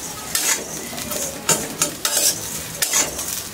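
Ghugni with flattened rice and black salt being stirred and roasted in a pan over a slow flame, with repeated scraping strokes of a spoon and a soft sizzle, close and fairly loud with no talk.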